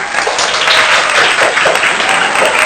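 A group of children clap together during a classroom action game on a bagless school day, producing a dense, continuous patter of many hands that stays loud and steady throughout.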